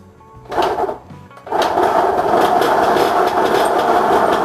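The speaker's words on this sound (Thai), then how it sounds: "แต่ว่ามันมีเสียงเฟืองขับนะฮะ เสียงเฟืองขับฝั่งชุดคัดนะ" A motorcycle engine sputters briefly, then runs steadily and loud with a rattling, whirring drive-gear noise from the gear selector side layered over the idle.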